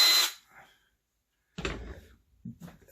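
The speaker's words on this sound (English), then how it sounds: "good old battery operated toolery" A battery-operated cordless drill gives a short burst near the start, then a few clunks and taps as the tool is handled and set down in a workshop, close and fairly loud.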